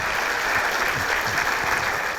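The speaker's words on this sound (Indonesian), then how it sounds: "Ya tepuk tangan boleh." Studio audience applause on a television talk show, a dense, even wash of clapping that holds loud and steady throughout.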